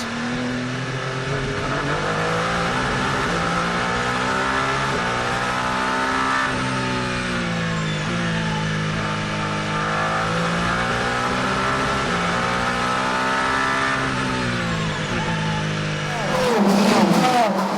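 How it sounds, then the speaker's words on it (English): Endurance race cars, including a Peugeot and a Ferrari, at Monza during a six-hour endurance race: a steady engine drone with rising and falling pitch as cars pass, loud throughout, under a commentator's voice. "Conway fighting back down to the Roger, but the Peugeot will stay in front"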